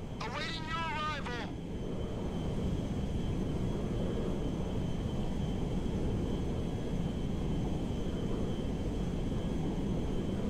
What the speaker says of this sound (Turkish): Çok ağır dönüyor uçak ama onu söyleyeyim.